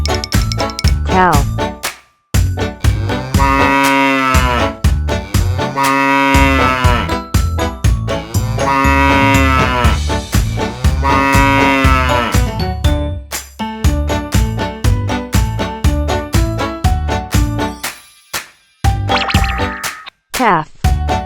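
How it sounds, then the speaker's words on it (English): Cow mooing in a children's farm-animals lesson, several long, loud, drawn-out moos in sequence with short gaps and a bell tinkling, and a voice naming animals between them. "Cow."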